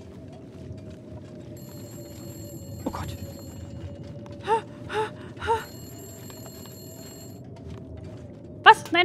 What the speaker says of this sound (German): sobald das Telefon klingelt